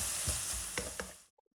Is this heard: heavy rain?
no